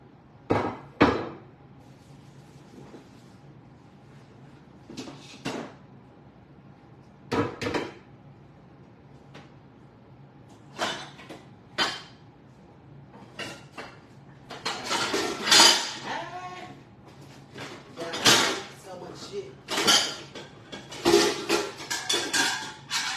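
Pots and pans clatter and clank in a home kitchen while someone digs through them for a baking pan, in scattered bursts of metal knocks that grow busier and denser toward the end.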